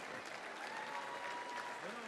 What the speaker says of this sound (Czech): Už to stojí za potlesk.